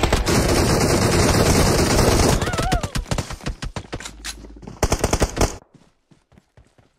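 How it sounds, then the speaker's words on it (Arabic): Rapid bursts of video game gunfire crackle loudly, first a dense continuous barrage, then separate sharp shots and short volleys that trail off into quiet. "طلع تيمو قاعد بطخ"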